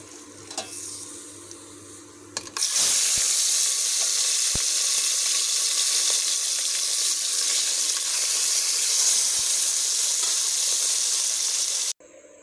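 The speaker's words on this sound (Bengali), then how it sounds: "তো আমি পরপর এভাবে সবগুলো মাছ ভেজে নেব।" After a quieter stretch with some clatter, fish drops into hot oil and a loud, steady sizzle of tilapia frying takes over, with occasional pops, until it cuts off abruptly near the end.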